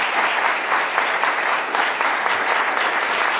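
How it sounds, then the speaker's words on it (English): Audience at a congressional hearing clapping for the panelists, a steady, fairly loud round of dense applause with no voices over it. "Would you give our panelists a big round of applause?"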